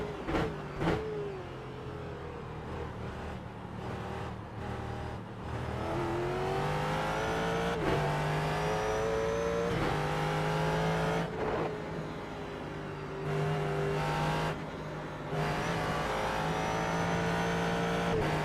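A Ford GT3 race car at Sonoma drives hard, its engine note climbing and falling through repeated gear changes, loud and close from on board, with no talking.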